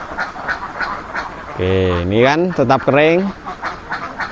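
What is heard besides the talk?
ducks quacking in a laying duck pen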